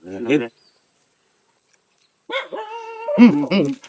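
A dog barks close by, one short bark, then a pause, then a run of several sharp yips and barks with a whining edge.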